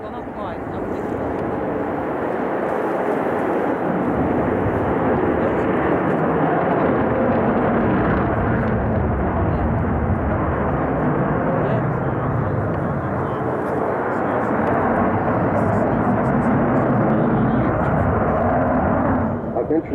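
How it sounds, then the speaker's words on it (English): Avro Vulcan XH558, the first B.2 bomber delivered to RAF Bomber Command in 1960, roars over the Royal International Air Tattoo in a loud, sustained jet rumble. A commentator speaks over the noise throughout. "This particular aeroplane was the first B-2 version of the bomber, the second Mark, into RAF service in Bomber Command in 1960."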